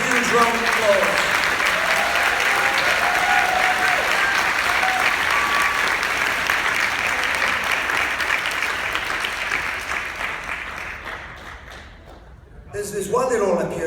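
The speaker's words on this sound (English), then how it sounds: "Let's give them all a huge round of applause." Sustained crowd applause at a high school awards ceremony, honoring students with GPAs near 4.0. The dense clapping fills most of the stretch, thins toward the end, and a voice returns near the close.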